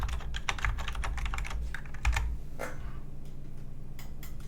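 Keys clatter in quick, uneven bursts on an Amiga computer keyboard during a tennis game, close and fairly quiet over a steady low hum, with a short pause near the middle before the tapping resumes.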